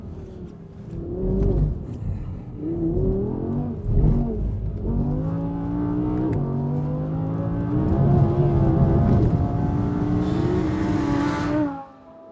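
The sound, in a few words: Audi R8 plus normally aspirated engine accelerating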